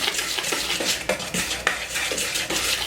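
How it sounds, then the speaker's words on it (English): Quick, rhythmic scraping and clinking of a whisk stirring a cocoa powder mixture in a bowl for chocolate cupcake batter, close up with repeated strokes against the sides. "I'm just going to stir this real quick just to get it mixed together"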